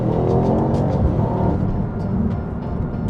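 A Mercedes-AMG GT63 with a biturbo 4-liter V8 pulls hard, its engine droning loud and steady from inside the cabin, with a slight dip and swell in tone as it keeps accelerating.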